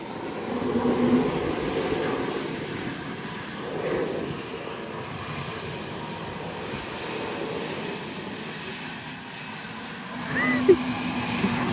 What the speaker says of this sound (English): Sounds like a jet flying overhead.